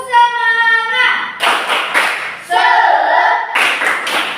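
A school class performing the tepuk semangat clapping chant, with bursts of group hand claps alternating with children's voices chanting and a sung tone, loud and close in a classroom.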